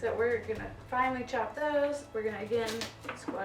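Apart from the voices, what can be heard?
No everyday noises stand out.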